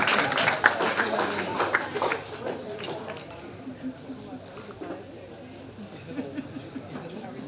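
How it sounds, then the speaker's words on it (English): Audience applause at a Women Island Network event as board members come forward to the stage, a burst of clapping loudest at the start and thinning out, with crowd chatter and voices mixed in. "let's give them a round of applause as they come forward"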